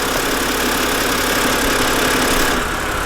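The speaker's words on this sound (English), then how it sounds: "So you hear that new intake? This thing sounds crazy." A BMW E90 fitted with a new cold air intake idles steadily, a close, constant engine drone with broadband intake hiss that holds throughout with no revving.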